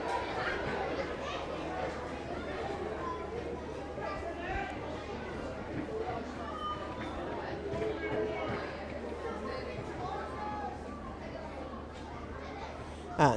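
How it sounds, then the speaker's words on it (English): An animated crowd murmurs and calls out at an Ulster final Gaelic football match between Granemore and Crosserlough, a steady far-off din with a commentator's voice over it. "Crowd here getting very animated."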